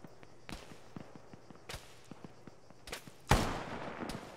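Incoming gunshots striking nearby in Arma 3, heard as sparse sharp cracks at uneven intervals with a single much louder, close impact near the end that trails off into a brief rumble.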